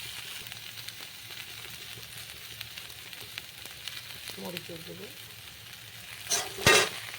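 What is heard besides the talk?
spices and pumpkin stems frying in pan while stirred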